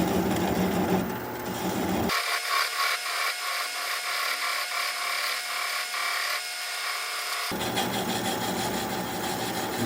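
A wood lathe turning a walnut bowl at about 400 RPM, a bowl gouge cutting with a loud rough scraping rasp that stops abruptly for a few seconds and then resumes over a steady motor whine.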